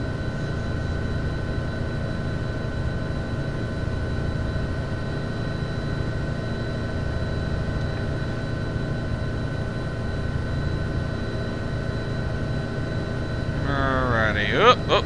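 A helicopter in Microsoft Flight Simulator X drones with steady engine hum and rotor thrum throughout, with a brief warbling sweep near the end and a voice talking over it.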